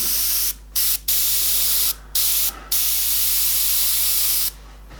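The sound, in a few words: airbrush spraying paint mist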